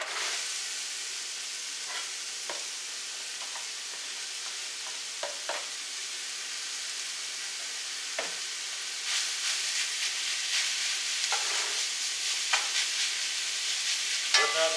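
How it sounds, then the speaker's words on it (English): Pork browning in a pan for dirty rice makes a continuous bright sizzle and hiss that grows slightly busier toward the end, with occasional utensil scrapes and pops and no voices. "We're going to start browning the meat now,"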